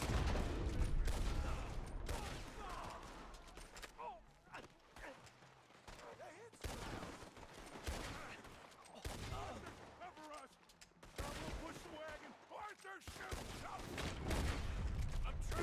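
Gunfire in the video game Red Dead Redemption 2, bursts of shots and booming reports in a firefight, rising and falling over the length with quieter gaps in between, faint game sounds underneath.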